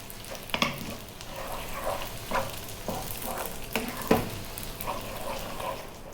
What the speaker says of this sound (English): I'm going to give that one more mix.